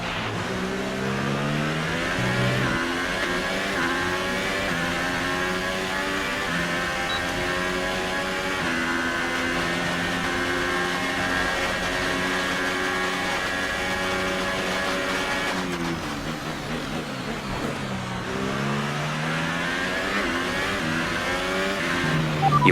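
A Formula 1 race car engine from the F1 2018 racing game at the USA Grand Prix screams continuously and loudly, its pitch climbing and dropping through gear shifts and revs, with occasional tire squeal and no talk.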